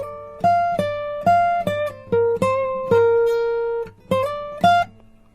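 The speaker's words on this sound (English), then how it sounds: "and a lead guitar line," A clean electric guitar picks out a melodic line of separate sustained notes, each struck and left to ring, moving up and down in pitch.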